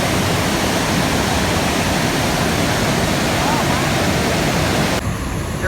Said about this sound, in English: Montmorency Falls, Quebec City.